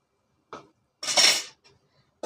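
A lid set onto a cooking pot of ash gourd kootu gives a short metallic clink, then a louder clattering rattle. A few faint taps follow, and another clank comes at the end.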